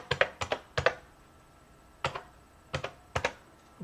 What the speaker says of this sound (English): And the password I will type in.